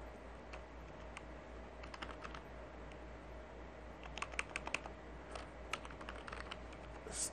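Someone types a command on a computer keyboard in steady bursts of crisp, close key clicks, with faint background hiss and no talking.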